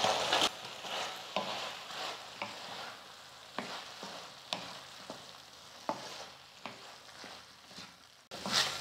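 Chilli pieces are stirred and fried in sauce for street-style cabbage manchurian, with a steady sizzle under repeated sharp scrapes of a spoon against the pan, close and fairly loud, and no talking.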